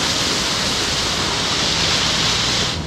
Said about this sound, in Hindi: ये बहुत ही अच्छा झरना।